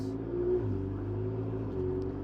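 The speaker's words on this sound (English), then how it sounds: "It's a bit louder than your average McLaren because this one was a little bit tweaked on the exhaust." McLaren 720S Spider with a modified, louder exhaust: a close, steady engine note with deep layered tones that step in pitch as revs rise and settle, heard alone for about two seconds.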